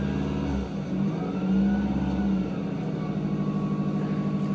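A car engine turns over and rises in pitch as the car pulls away, a steady mid-range hum held for a few seconds, alone with no talk.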